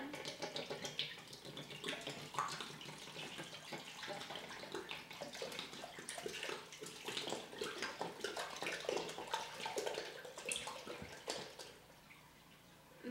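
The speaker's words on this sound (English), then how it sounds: "You're going to open the milk and pour it into the pan." Milk pours from a freshly opened container into a pan while making cottage cheese, a steady close liquid splashing and trickling that runs continuously for about thirteen seconds with no talk.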